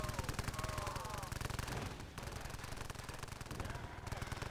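A turret machine gun in Call of Duty: World at War fires continuously and close, a dense rattle of shots lasting several seconds with only a brief dip near the middle.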